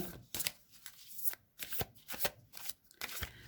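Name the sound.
shuffling a deck of cards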